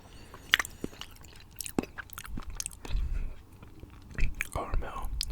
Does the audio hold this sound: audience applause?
no